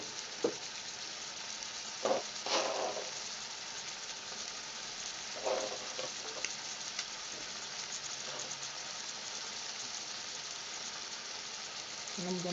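Onions fry in a pan for an Asian seafood stir-fry noodle dish, a steady moderate sizzling hiss with a few louder stirring scrapes and clatters spread through, close and without talk.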